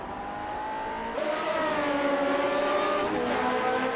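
Vintage race car in Grand Prix Legends at Montreal heading into a hairpin, a loud, steady engine whine that drops in pitch as the car brakes, then climbs again.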